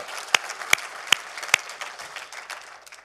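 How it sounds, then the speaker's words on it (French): A church congregation gives a short burst of applause, with a few sharp, loud claps standing out over a softer scatter of hands before it quickly dies away. "Je pense que ça mérite une main d'acclamation."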